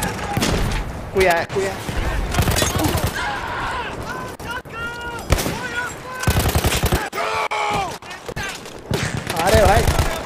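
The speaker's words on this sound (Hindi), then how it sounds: "अब हम उनकी गन यूज कर पाएंगे यार। Enter the MG." A mounted machine gun firing in the Battlefield 1 video game, loud rapid bursts and explosions mixed with game sounds, under frequent excited talking.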